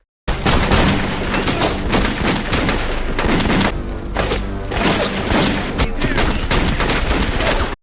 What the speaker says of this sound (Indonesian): Tiba-tiba datang sekelompok gangster suruhan Alvarez dan langsung menembaki Mark